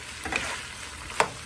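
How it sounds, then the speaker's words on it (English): Ground beef and Italian sausage sizzle quietly in a pan while a utensil scrapes and stirs them together, with a sharper clink near the end. "I'm mixing the meat, the ground meat,"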